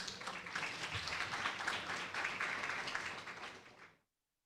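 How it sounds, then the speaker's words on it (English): Audience applause at a university orientation day in a hall, a steady wash of clapping sustained for about four seconds before cutting off abruptly. "Another round of applause while he slowly walks to the podium."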